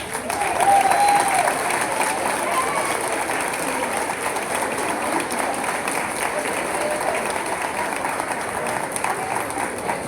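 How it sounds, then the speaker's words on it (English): Steady applause fills a school gym as seventh-grade students are honored for district, state and national competitions at an honors day, sustained and even throughout with crowd noise. "stand up because we need to give you a big round of applause"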